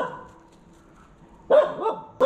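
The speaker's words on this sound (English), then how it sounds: "Barking at the pole right there." Dogs on a beach in Hiriketiya bark at a pole, with a soft whimper first and then two loud, close barks near the end.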